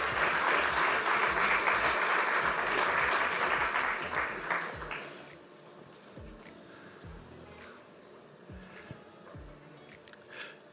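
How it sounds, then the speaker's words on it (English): Audience applauds Fisheries and Oceans Commissioner Kostas Kadis at a European Ocean Days panel, a dense loud round of clapping that thins after about five seconds into scattered claps, with a few sharp knocks near the end. "A warm round of applause."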